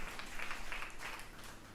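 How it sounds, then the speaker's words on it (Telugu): A church congregation claps loudly in praise: dense, continuous applause from many hands, faint and distant, with no words spoken over it. "గట్టిగా చప్పట్లు కొట్టి దేవుని మహిమపడతాం."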